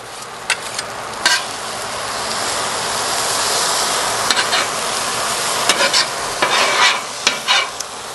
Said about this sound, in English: Move it all the way around, get everything Make sure we get everything all cooked up really good.